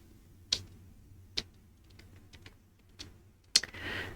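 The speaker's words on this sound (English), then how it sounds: "so I'm just going to type that in." A few sparse, sharp keystrokes on a computer keyboard tap out separately in a quiet room, faint and close.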